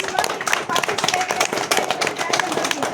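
A church congregation claps along during a Hindi sermon, quick overlapping claps mixed with the preacher's voice, loud and close for a few seconds.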